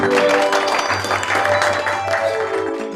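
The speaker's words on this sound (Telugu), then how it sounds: "కాబట్టి ఫాస్టర్ మధు గారు ముందుకు వస్తూ ఉండగా మనందరం చప్పట్లు కొట్టి వారిని ఆహ్వానిద్దాం." Audience applause at a doctorate certificate ceremony, a steady dense clapping from a crowd lasting the full three seconds, loud and continuous with a low musical hum underneath.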